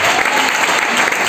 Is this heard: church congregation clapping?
yes